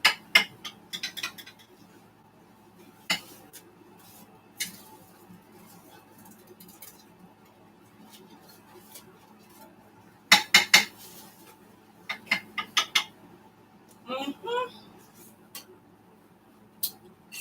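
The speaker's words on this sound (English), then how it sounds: "So guys, I'm going to cut my lasagna." A knife cuts through hot baked plantain lasagna made with minced veggie in a dish, giving sporadic scrapes and clinks of metal against the dish. The sounds come in short clusters with quiet gaps, close and moderately loud, with a brief squeak near the end.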